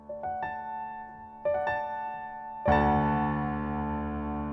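Piano chords of a song played as quick rolled notes, each strum ringing out and overlapping, with a fuller final chord that sustains and fades.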